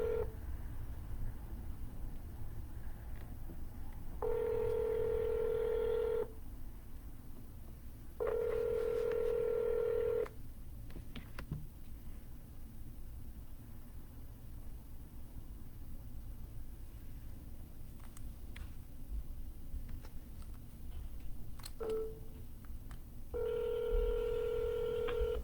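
Telephone keypad tones and ringback on an outbound cold call to a real estate lead: several bursts of steady tonal ringing separated by quiet line hiss, with short dialing beeps between them, clear and alone without talk.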